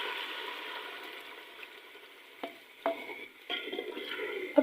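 Cream paste is poured into browned chicken and stirred in a pan, a low simmering sizzle with a few wet scrapes and clunks of the spoon growing busier toward the end.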